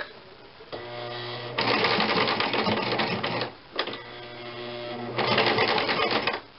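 A sewing machine stitching a nun's veil, a loud close mechanical whir running in two long bursts with a brief pause between and a short clatter at the restart.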